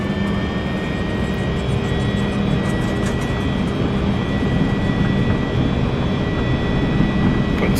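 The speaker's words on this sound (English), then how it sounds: "Takeoff power set." XCrafts ERJ-175 jet engines roaring at takeoff power in X-Plane 11, a steady loud broadband rumble with whining engine tones, continuous for the whole stretch.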